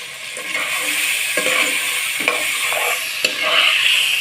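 Spices with chili powder stir-fried in oil for a spicy pabda fish curry, a continuous close sizzle broken by regular spatula scrapes and taps against the pan, no voices.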